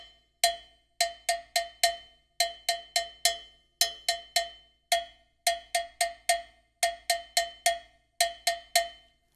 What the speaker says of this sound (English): his left hand is playing a mambo pattern on the smaller bell, a cha-cha bell